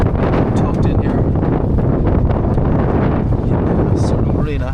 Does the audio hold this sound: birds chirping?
no